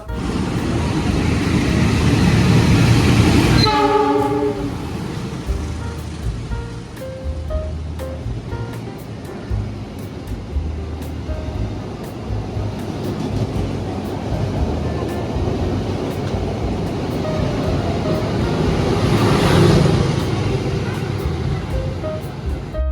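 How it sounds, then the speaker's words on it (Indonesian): A commuter train arrives at Manggarai station in Jakarta with a broad, steady rumble and rushing roar that swells again toward the end, starting with a brief loud squeal of brakes or a horn. "Dan ini dia kereta yang akan membawa saya ke stasiun Cakung sudah datang."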